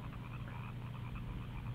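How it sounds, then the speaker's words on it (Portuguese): Frogs croak at night as an audio drama effect near a pond by a sugar mill, a low steady chorus of overlapping calls sustained throughout at moderate level with no talk. "Ouvia-se por ali apenas o coachar dos sapos"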